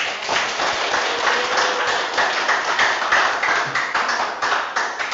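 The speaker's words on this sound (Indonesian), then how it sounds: "Oke, kasih tepuk tangan" Classroom applause from a group of students, dense continuous clapping close by that holds steady at full strength for the whole stretch with no talk over it.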